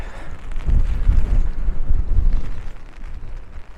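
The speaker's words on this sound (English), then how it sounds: "It's cloudy, really windy, and it's just generally wet." Strong gusts of wind buffet the microphone outdoors in Dublin with a rough, rumbling roar, a steady wet hiss of rain beneath, no voices.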